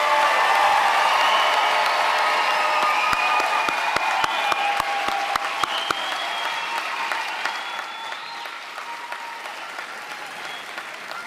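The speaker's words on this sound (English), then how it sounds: "Let's give a round of applause to our class of 2026." A college commencement crowd applauds the graduating class of 2026 with sustained, loud clapping and a few cheers, tapering off slightly toward the end.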